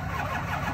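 A Chevy 4WD truck's engine catching and firing up outdoors, a short, fairly quiet burst of engine noise.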